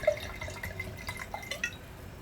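Oak Ridge Ancient Vine Zinfandel wine poured into a glass, a close, soft gurgling trickle with small uneven splashes lasting about two seconds, no talking.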